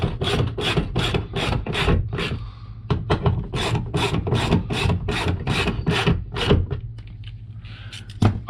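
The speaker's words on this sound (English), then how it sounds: "let's put back with a 10mm ratchet" A 10mm ratchet is cranked to refasten the front door panel on a 2022 Lexus NX450+, giving a steady run of close, crisp rasping clicks in quick bursts, with a brief pause partway through.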